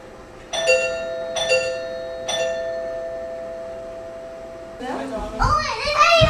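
A doorbell chimes three times, clear and fairly loud indoors, followed by children's voices chattering.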